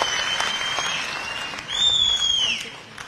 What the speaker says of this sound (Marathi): एकदा आपण जोरदार टाळ्या वाजवून त्यांचं